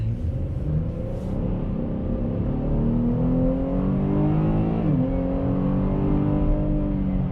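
A 2019 Chevrolet Blazer with a six-cylinder engine accelerates onto a highway, its engine note rising steadily through the gears as a loud, continuous rumble heard from inside the cabin.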